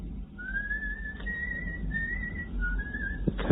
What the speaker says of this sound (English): The coachman is whistling.